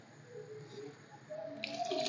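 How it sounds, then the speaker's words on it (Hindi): Water poured into a cooking pot while making a minced meat and potato curry, a soft continuous trickle that swells into a louder splashing pour toward the end, fairly close, with no talking. "अब मैंने इसके अंदर पानी डालना है।"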